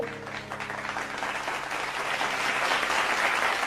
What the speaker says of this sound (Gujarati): જોરદાર તાળીઓથી વધાવી લઈએ